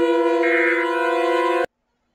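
Siren Head siren wail from a Minecraft animation, a loud, steady harmonic horn-like tone that holds for about a second and a half, then cuts off abruptly into silence.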